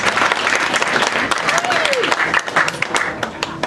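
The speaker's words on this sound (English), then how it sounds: "give him a big round of applause" An audience at a Hillbilly Golf comedy show gives a big round of applause: thick, close clapping from many hands throughout, with a short rising whoop cutting through partway.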